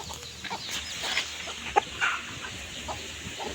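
A chicken clucks a few short times amid steady outdoor farmyard noise, with one sharp higher call near the middle.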